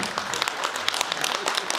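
Audience applause at the Chervona Ruta festival of original song and sung poetry in Bohorodchany, a dense, steady crackle of many hands clapping at moderate distance throughout.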